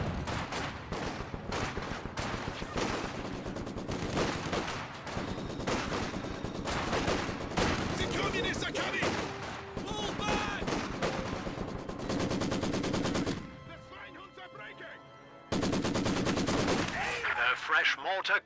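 Rapid machine-gun fire from a Maxim gun in a wartime strategy game, loud bursts of repeated shots layered with other gunfire and explosions, pausing briefly near the end before resuming.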